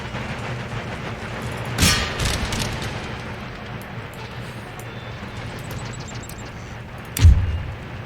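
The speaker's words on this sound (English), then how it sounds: "Give him a good volley, lads." Musket volleys in the Empire: Total War battle game, two sharp booming bursts a few seconds apart over a steady battlefield rumble, the second louder and closer.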